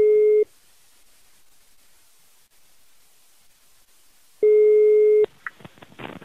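A telephone line gives a loud steady tone that stops, leaves faint static for a few seconds, then returns briefly before crackling line noise follows.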